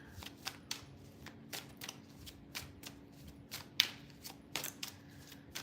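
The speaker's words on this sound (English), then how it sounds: "let me pull some cards while I'm shuffling." Tarot cards being shuffled, a quiet close series of crisp riffling snaps and flutters in an irregular rhythm, with one sharper slap partway through, alone without talk.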